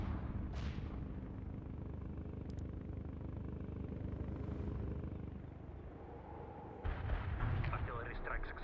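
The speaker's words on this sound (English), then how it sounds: "Artillery strike success." A rolling rumble of artillery barrage explosions from the video game World in Conflict, a dense continuous low roar with a sharp crack early on and a heavier surge near the end.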